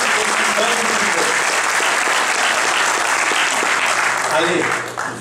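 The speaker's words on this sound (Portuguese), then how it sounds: "a salva de palmas" A large audience applauds in a loud, continuous wash of clapping during a tribute to a Corinthians football player, with voices faintly mixed in, fading slightly at the end.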